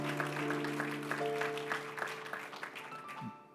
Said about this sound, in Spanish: Denle un aplauso fuerte al Señor porque Él es bueno.